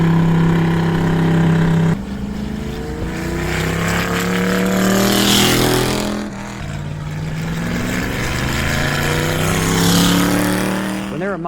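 A Ford Y-block V8 engine in a 1957 Ford Thunderbird idles and revs with a deep, steady rumble, swelling twice as the throttle opens, close by and loud throughout.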